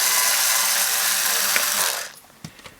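A power screwdriver whirs loudly and steadily to back out the final screw from the case of a BK 1653 AC power supply, then stops, followed by a few small metallic clicks and taps.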